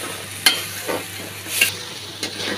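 Spices with green chili paste being stirred and fried in a pan while cooking a pomfret dish, giving soft intermittent sizzles and scraping stir strokes, close and fairly quiet, with no talking.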